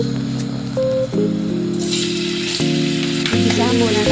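Chopped pancetta sautés in a pan with a steady sizzle, alone and loud, as sustained tonal music plays underneath.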